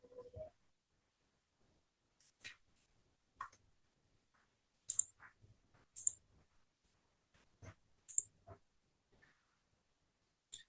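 Sparse, faint key clicks sound as a command is typed on a computer keyboard in a quiet room, scattered single taps and small clusters with long pauses between them.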